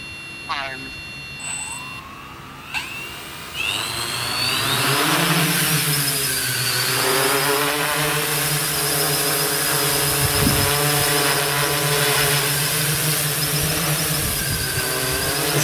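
Electric motors of an untuned multicopter VTOL drone arming and spinning up in loiter mode, a rising whine that settles into a steady, loud buzzing drone with shifting pitch as it flies unsteadily.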